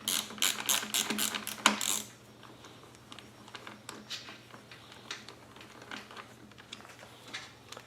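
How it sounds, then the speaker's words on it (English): Quick bursts of ratchet clicking as bolts are driven back into the cabinet of a Wen 2500 generator, loud and close for the first two seconds, then fainter scattered clicks and handling noises. "So now we're going to go ahead and put these bolts back into the cabinet."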